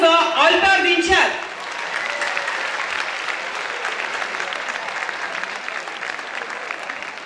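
Crowd applause at a 2022 tribute music night welcomes a singer onto the stage, a steady wash of clapping that follows a brief burst of announcer speech and carries on alone.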